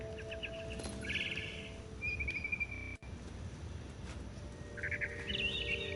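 Bird chirps in the video game What Remains of Edith Finch, short bursts of high twittering calls near the start and again near the end over a steady low ambient game hum.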